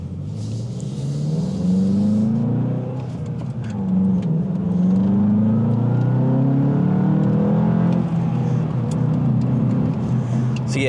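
A 2025 Volkswagen Jetta GLI with a manual clutch and shifter pulls hard through the gears, its engine note rising in repeated sweeps with brief dips at each shift, loud and close throughout.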